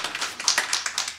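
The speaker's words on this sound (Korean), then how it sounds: "우리 박수 한번" Applause from a small classroom audience during a Bible lecture on creation, a short burst of scattered, fairly close claps without any talk.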